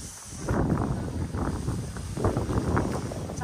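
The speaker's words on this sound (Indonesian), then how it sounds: "anginnya kencang sekali." Strong wind gusting across an open tulip field, a rushing, buffeting roar that swells and eases in waves, loud and close against the microphone.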